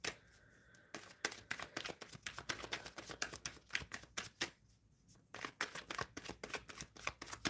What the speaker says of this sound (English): I'm shuffling for the collective for this live reading for Monday.